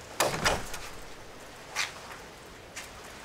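Police open a door in the rain: a sharp rattling bang, then two fainter knocks or clunks spaced apart, fairly close.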